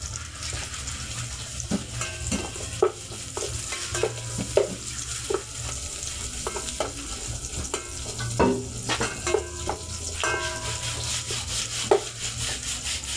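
Ginger sautés in a pan for chicken tinola, with a soft constant sizzle under repeated close scrapes and knocks of a utensil stirring against the pan.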